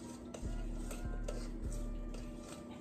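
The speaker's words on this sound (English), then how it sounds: "just go ahead and stir that in there" A thick Ayurvedic herbal hair oil with brahmi powder is stirred in a container, with steady scraping and three or four regular knocks of the utensil against the sides, close and with no talk.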